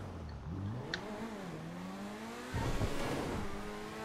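Grotti Turismo Classic sports car in the GTA V video game, its engine revving and shifting through gears with rising and falling pitch, loud and close, with a harder surge of acceleration near the end.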